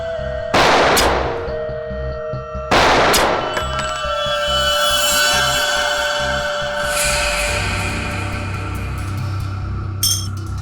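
Two loud gunshots fired seven feet from the target in a ballistics test, one near the start and a second about two seconds later, each a sharp broadband crack with a ringing tail, over a steady background hum.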